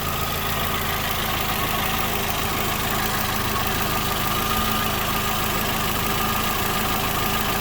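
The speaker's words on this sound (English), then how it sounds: "why your car engine vibrates, why at idle" A car engine idles steadily throughout, a continuous dense mechanical rumble with a slight vibrating hum from a faulty engine mount, fairly loud and with no voices.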